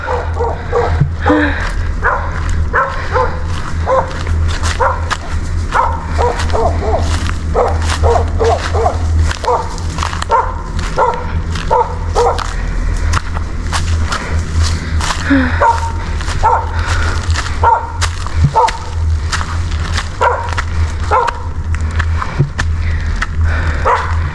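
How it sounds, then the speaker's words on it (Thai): A mother stray dog on a hillside barks repeatedly in short, irregular bursts at mid distance, over a steady low outdoor rumble and faint background noise. "ตอนนี้แม่มันเห่าส่งสัญญาณแล้ว"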